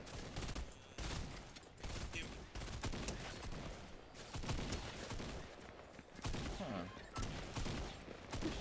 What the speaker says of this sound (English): Shotgun don't do as much damage as I was hoping it would